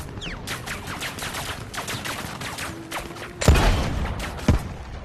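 An RPG rocket launcher fired in the VR shooter Zero Caliber: one sudden loud blast with a rumbling tail, after a stretch of lighter, scattered clicks and rattles.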